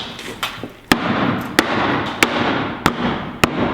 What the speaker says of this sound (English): You want to hit it in the middle, which is the center of the barrel.